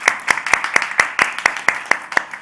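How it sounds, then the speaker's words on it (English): Rhythmic hand clapping from an audience at a climate accelerator demo day, steady evenly spaced claps welcoming a speaker to the stage, fairly close and loud with no talk over it. "Let's give him a round of applause"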